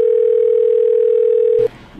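A steady telephone dial tone holds at one pitch for about a second and a half, loud and continuous, then cuts off abruptly and leaves faint room noise.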